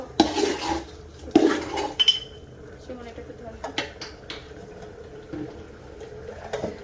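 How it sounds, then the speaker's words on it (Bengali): Biryani rice frying in one pot while meat cooks in another, with metal utensils clinking and scraping against the pots in scattered bursts, under a voice talking nearby. "আজকে বিরিয়ানির চালটা ভাজতেছি, আর এদিকে হচ্ছে মাংস"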